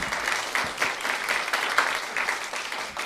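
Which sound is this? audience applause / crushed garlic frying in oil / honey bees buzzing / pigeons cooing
audience applause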